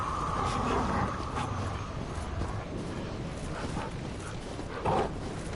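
Dogs barking in Dark Souls III: several faint, short barks and yips scattered over a muffled, busy game background, with one louder bark near the end.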